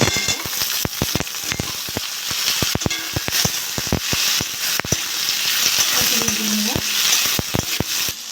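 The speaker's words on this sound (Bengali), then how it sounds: "বেগুন আলুটা একটু ভেজে নিয়েছি" Potato and eggplant fry in hot oil in a pan with onion, giving a steady loud sizzle broken by sharp crackles and spatters, with a faint clink of utensils and no talk.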